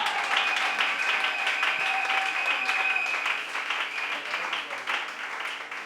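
A church congregation applauds steadily, a dense sustained wave of clapping that stays loud throughout and eases off slightly toward the end, with some voices mixed in.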